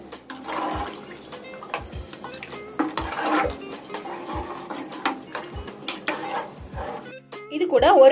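A spoon scrapes and stirs ground masala through thick mutton bone curry in a pot, with repeated soft knocks and a faint sizzle underneath, close up.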